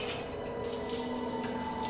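Shower water runs in a steady, continuous hiss, moderately close and unbroken, with no talking over it.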